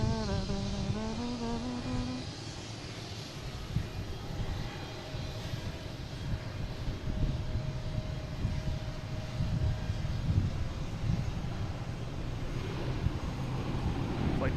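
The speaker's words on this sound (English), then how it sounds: "we got a JetBlue coming in from Aruba." A JetBlue A321 airliner, Flight 574 in from Aruba, arriving at Boston Logan, its engines a steady broad roar with a falling whine early on, holding loud and even throughout.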